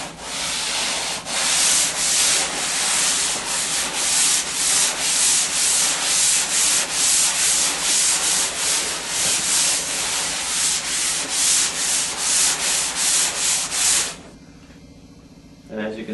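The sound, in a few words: sanding a skim-coated drywall surface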